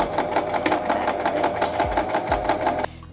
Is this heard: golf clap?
no